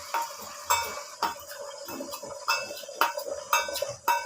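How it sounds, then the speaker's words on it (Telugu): Beaten eggs go into hot oil in a kadai while cooking egg fried rice: sharp metallic clinks come every half second or so, with a faint sizzle underneath. "బీట్ చేసిన ఎగ్స్ ని కడాయిలో వేసుకోవాలి"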